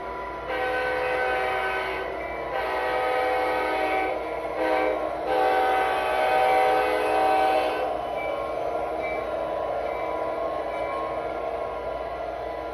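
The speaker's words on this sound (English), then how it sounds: "as a Canadian Pacific train rolls by." A Canadian Pacific train rolls by in Gooden, West Virginia, a sustained loud rumble with long horn-like tones dominating the first half, then fading to steady rolling noise, with no talking.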